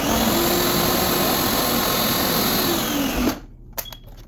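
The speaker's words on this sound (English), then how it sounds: "we're going to just blend this tomato" A blender purees tomatoes and dry pepper with a loud, steady whirring drone that runs continuously and then cuts off abruptly, followed by a few faint clicks and knocks.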